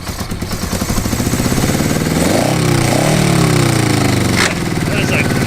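An old Honda motorcycle engine, flooded and left for about 30 years, cranks and then runs, its rough, pulsing revs rising and falling up close over a steady loud drone while people talk over it.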